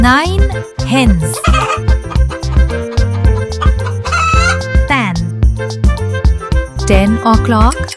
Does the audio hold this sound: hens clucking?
yes